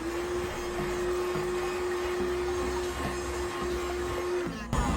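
A Baucatlan portable car vacuum cleaner fitted with a brush attachment hums steadily and close, sucking up goldfish crackers inside a car, with a sharp jolt near the end.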